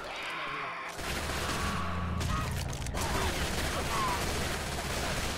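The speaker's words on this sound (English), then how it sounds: "Why are there fireworks down here?" Fireworks going off in Left 4 Dead 2, a dense crackling barrage of rapid bangs with a deeper rumble underneath, continuous and fairly loud throughout.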